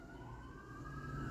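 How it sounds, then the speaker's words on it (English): A fire engine siren wails faintly in the distance, its steady tone drifting over low traffic rumble. "And I apologize for the sirens in the background."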